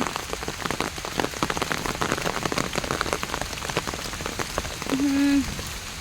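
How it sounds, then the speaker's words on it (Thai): Steady rain patters and splashes on surfaces nearby, with a short tonal beep rising briefly over it near the end. "ฝนตกค่ะ"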